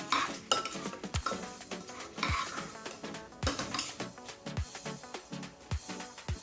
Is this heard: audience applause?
no